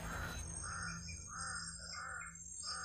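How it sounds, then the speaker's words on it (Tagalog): Several crows caw in a series of rough, spaced calls from middle distance outdoors, beneath a tree, over a steady low background hum and rustle. "Mayroon pa talagang mga uwak dito."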